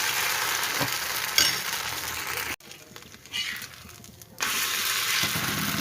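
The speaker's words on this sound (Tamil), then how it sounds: "பாருங்கள், நல்லா கல் சூடாயிடுச்சு. இப்போ நம்ம தோசை ஊற்றலாம்." Pepper-and-coconut dosa batter spread on a hot stone griddle, a steady loud sizzle and hiss that briefly drops away and then returns, close up, with no talking.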